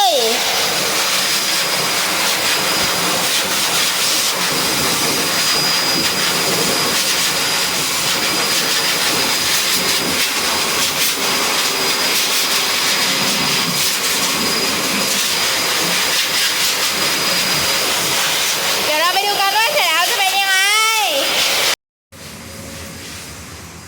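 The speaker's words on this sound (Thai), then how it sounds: "พี่ช่างกำลังเป่าขนให้น้องหมานะ อาบน้ำเสร็จเมื่อกี้เลย" Pet-grooming blow dryer drying a golden retriever's fur, a loud steady roaring whoosh of air that runs continuously, with a brief voice near the end before it cuts out and resumes quieter.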